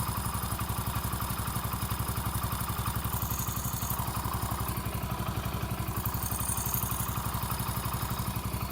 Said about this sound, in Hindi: इंजन का साउंड मस्त वाला मक्खन का नया वाला साउंड आ रहा है।